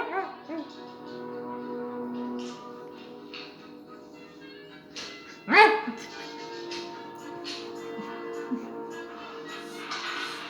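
A dog yips and whimpers in short, uneven bursts, with one sharp louder bark near the middle, fairly close in a quiet room.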